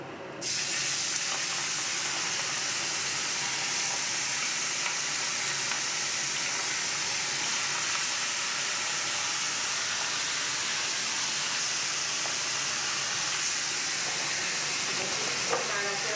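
Chicken pieces fry in butter and oil in a pan, giving a steady, even sizzle that runs the whole time at moderate loudness with no voices.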